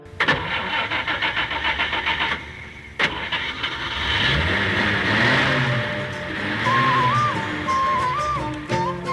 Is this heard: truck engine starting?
yes